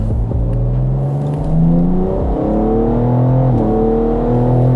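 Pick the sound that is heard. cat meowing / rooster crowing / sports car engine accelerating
sports car engine accelerating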